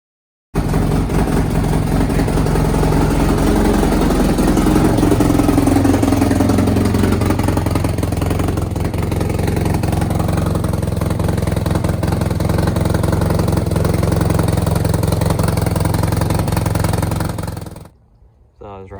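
A Polaris RZR 800 side-by-side engine, jump-started from a lawnmower battery, turns over and then runs loud and steady for about seventeen seconds before cutting off abruptly, heard close up.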